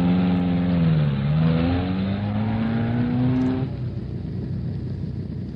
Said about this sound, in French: une voiture de police vient de prendre la moto en filature